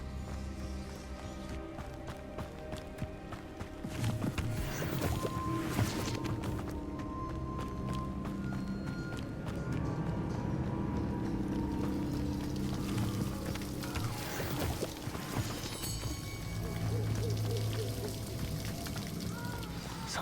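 A waterfall in the Hogwarts Legacy video game gives a steady, even rush of falling water that runs without a break, with faint game ambience underneath.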